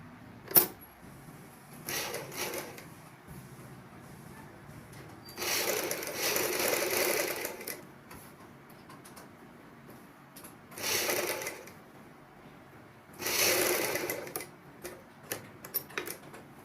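Sewing machine stitching piping onto the armhole of a sleeveless choli, running in several short bursts of rapid mechanical clatter separated by quiet pauses, close and fairly soft.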